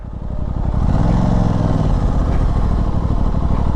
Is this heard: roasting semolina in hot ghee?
no